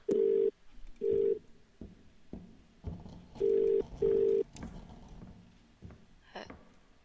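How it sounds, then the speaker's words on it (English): A telephone rings in The Cat Lady, a dark horror adventure game: four loud electronic ring bursts in two pairs, with quiet game ambience between them. "Answer the phone."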